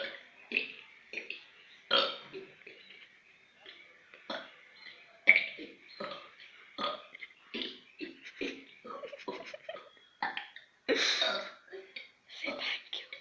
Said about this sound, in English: Today I'm going to show you a world record of burping.